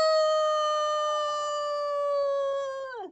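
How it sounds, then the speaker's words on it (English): A cartoon dog lets out one long, loud, sustained howl that holds steady for about three seconds, then sags and drops away at the end, with no voices around it. "I'll bark all night if I have to."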